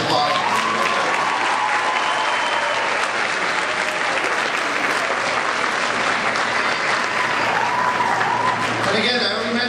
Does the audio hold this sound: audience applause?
yes